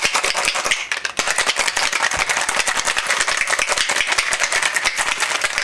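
Ice rattles hard and fast inside a cocktail shaker holding a Viniq shimmery liqueur tropical drink, a steady loud clatter for several seconds with no talking.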